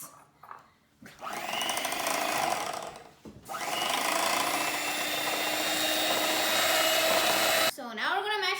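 Banana bread batter being mixed with an electric mixer, a steady whirring drone in two long runs with brief pauses, fairly loud and close, with voices briefly at the end.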